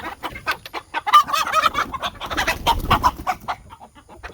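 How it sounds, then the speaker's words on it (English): Chickens cluck and squawk close by in a busy, overlapping burst as the coop door is opened to let them out. "We're going to let the chickens out."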